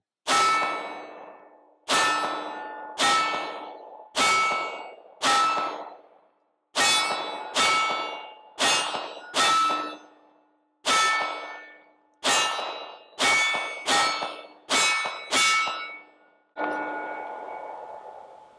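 An outdoor range where a Steyr Mannlicher L9-A1 pistol is fired at a steel target, giving about fifteen loud shots that each ring with a metallic clang, spaced unevenly, some close in pairs, with no talking.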